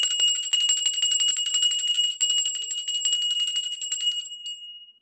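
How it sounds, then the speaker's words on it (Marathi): A small brass hand bell rings continuously and close during a Dhanteras puja, with rapid bright metallic strokes in a steady jangle that stops near the end and fades out. "आता आपण धूप आणि घंटी वाजवून पूजा संपन्न करूया."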